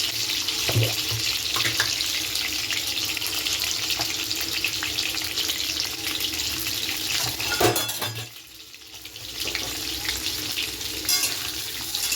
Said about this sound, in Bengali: জল বসাবো বলে জলটা নিয়ে নিলাম